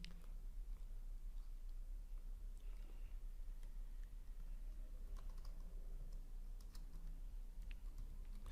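Steady typing on a computer keyboard, quick light key clicks running continuously over a low room hum, fairly quiet and close.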